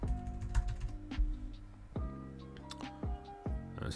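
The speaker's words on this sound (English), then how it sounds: "I just put in my password." Password being typed on a PC computer keyboard: a few close, irregular key clicks and taps, with no talking.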